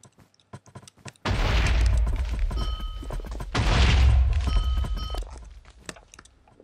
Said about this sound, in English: It's just literally grenades everywhere.